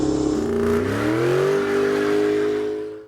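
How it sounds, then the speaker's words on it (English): A car engine in the video game Rocket League revs and rises in pitch, then holds a steady drone as the car drives off, loud and alone with no talk. "he started his car and drove away from the graveyard."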